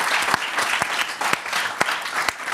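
Studio audience applauding on a French football TV show, steady clapping throughout with a few sharper individual claps standing out.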